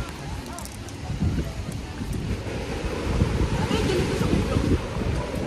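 Steady wind gusting across a microphone at a beach, with surf washing underneath, a continuous close rumble that swells slightly louder toward the end, no voices.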